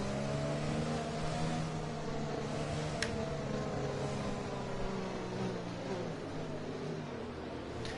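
Racing cars in an F1 video game at Bahrain drone continuously, layered engine whines holding steady and gently rising and falling as several cars run together, loud and close.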